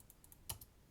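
Keys on a Mac computer keyboard are tapped a few times in quick, light succession, faint and close, with one sharper keystroke standing out in a quiet room.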